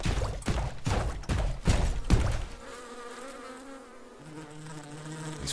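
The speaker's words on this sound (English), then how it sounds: "Bees feed here and spread the poison to other flowers, to the grain we will sow." Bees buzz in the video game First Dwarf, a steady droning hum that follows a run of heavy thumps and whacks at the start, moderately loud and without talk.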